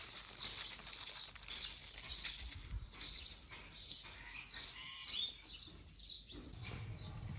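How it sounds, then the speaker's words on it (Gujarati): A sparrow chick chirps in a string of high, quick tweets, fairly faint, with soft rustling and a few wing-like flutters and no talk. "આ એક ચકલીનું બચ્ચું છે"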